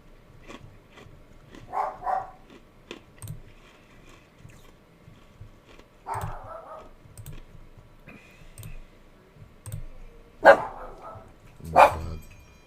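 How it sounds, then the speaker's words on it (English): Dogs bark indoors in a few short, irregular bursts near the end, alongside scattered clicking like keyboard or mouse taps during an online poker tournament session. "The dogs are barking."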